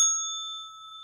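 A bright bell ding from collecting bells in the Animal Crossing Pocket Camp video game, one clear chime struck at the start and ringing on steadily as it slowly fades.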